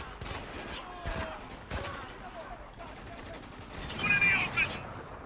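Gunfire in the war shooter game Spec Ops: The Line, several sharp shots and bursts over about five seconds, with a louder flurry near the end, mixed with game noise and a voice talking.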